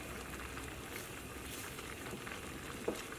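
A Kerala-style ladies finger (okra) curry with ground coconut simmering on high heat, a faint, steady bubbling hiss with one small pop near the end.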